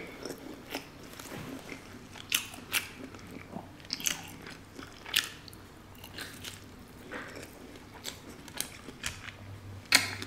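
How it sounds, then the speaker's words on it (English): Close, wet bites and chewing of a seafood boil of crawfish, corn, boiled eggs and potatoes, with repeated crunches and mouth sounds in an irregular rhythm across the clip. "So I'm just gonna take a few bites of this."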